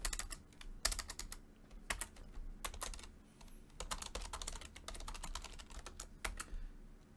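Computer keyboard typing, close quiet bursts of clicking keystrokes in an irregular rhythm with short pauses, no talking.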